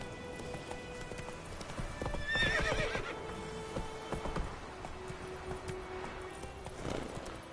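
A horse whinnies loudly and hooves clip-clop in a steady gait while riding in The Witcher 3 video game, close and clear over soft game ambience.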